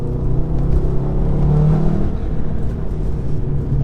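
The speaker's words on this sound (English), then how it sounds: "That turbo noise sounded good then." A 2016 Stage 2 tuned VW Golf R engine roars under hard acceleration on a country road, a deep droning rumble with a whooshing, whirring turbo layered over it, loud and close from inside the car.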